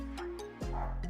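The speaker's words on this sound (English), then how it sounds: "Sorry if you can hear my dogs barking," Dogs barking indoors in a townhouse, a few short yips and whimpering barks, close and moderately loud.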